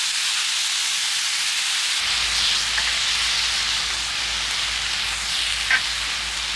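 Yakisoba noodles and sauce sizzle in a pan at a campsite near Mount Fuji, a steady broadband hiss that starts mid-sizzle and swells slightly after a couple of seconds, close and continuous, with a few faint clinks and no talking.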